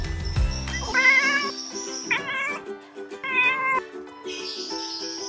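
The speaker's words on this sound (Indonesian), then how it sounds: "Ini ada kucing juga teman-teman." A toy cat lets out a series of electronic meows, several separate close cries with short pauses, beginning after a brief clunk.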